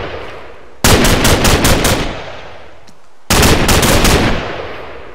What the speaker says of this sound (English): we're gonna try shooting from the hip